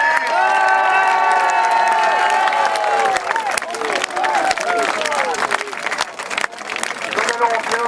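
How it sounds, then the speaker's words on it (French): An outdoor protest crowd of thousands cheers and applauds for Francis Lalanne, loud sustained shouts and whistles over clapping, with voices rising and falling throughout. "chaleureux applaudissements pour Francis"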